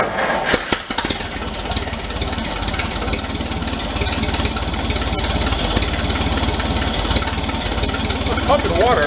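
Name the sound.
1930 Plymouth engine cranking and running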